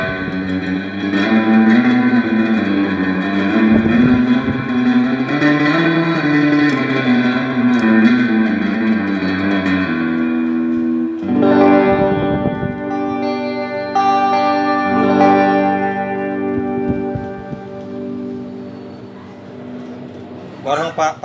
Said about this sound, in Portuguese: Reverb bem clássico, né?